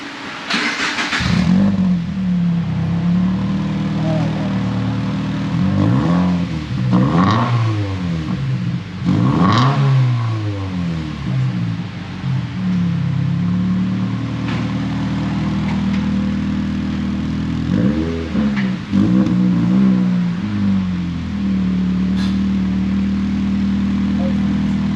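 Car fitted with a new single-exit exhaust, idling with a deep burble and revved repeatedly in several bursts that rise and fall, loud and close throughout the 25 seconds.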